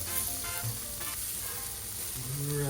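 Meat skewers sizzle steadily on a hot Brazilian barbecue grill, a constant crackling hiss close by, with faint background murmur and no clear talk.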